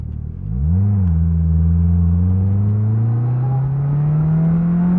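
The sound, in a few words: 2022 Slingshot SL accelerating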